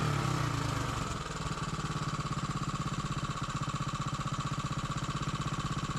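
A Briggs engine on a Mega Moto minibike idles with a steady, rapid putter and a fast, even pulse. It sounds close and continuous, with no talking.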